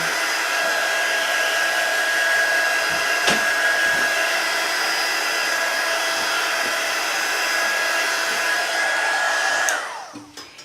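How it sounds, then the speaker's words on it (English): A hair dryer blows steadily on a painted art journal page for about ten seconds, loud and close with a constant whine, then clicks off near the end. "So let me dry that real quick."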